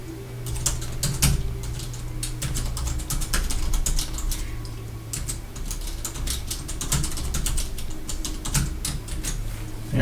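Rapid clicky keystrokes on a cheap keyboard case for an iPad Pro, dense bursts of close taps over a low steady hum, no talking.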